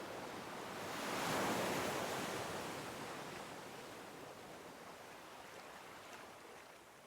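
Ocean waves wash onto a beach in a broad hissing rush that swells early and then recedes into steady surf noise, with no voices.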